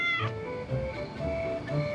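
A cat meows a couple of times, short and close, over a soft tonal background.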